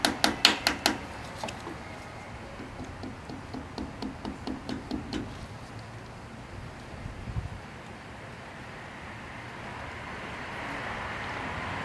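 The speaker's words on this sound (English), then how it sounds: "So we'll tap the cotter pin down." A hammer taps a cotter pin down on a wheel bearing in a quick series of about fifteen light metallic strikes over the first five seconds, followed by quiet background noise.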